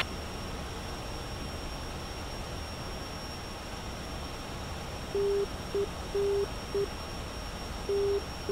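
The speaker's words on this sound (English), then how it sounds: "I've also got the NDB Morse code identified." Morse code identifier tones from an NDB radio beacon in the DCS flight simulator, a steady beeping tone in short dashes and dots over continuous cockpit engine and radio hiss, fairly faint.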